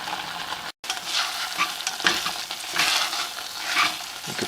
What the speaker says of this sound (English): I'll let this boil down a little bit and then return.